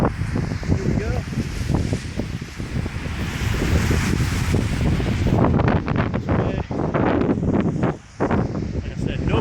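Strong wind gusting across the microphone at an empty Cubscott Stadium on a rainy day, a loud continuous roar and buffeting throughout, with a brief lull near the end.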